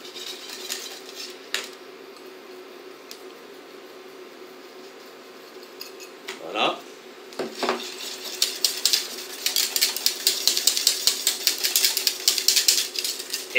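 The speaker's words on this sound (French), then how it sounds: "là maintenant, on va arrêter avec le fouet" A whisk clatters around a bowl stirring coconut milk and sugar for rice pudding, with soft scraping at first, then rapid, dense metallic ticking close by, building to busy clinking near the end.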